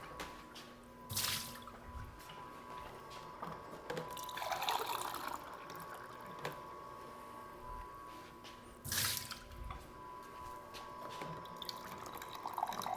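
Water running from a slushy machine on its rinse setting, a steady faint trickle and drip that swells at two points, with no talk over it.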